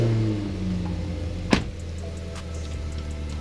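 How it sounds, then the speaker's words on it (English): A BMW car engine starts with a short sharp crank burst, then settles into a steady low idle hum, heard close and alone. "We're gonna go inside and turn the car on first of all."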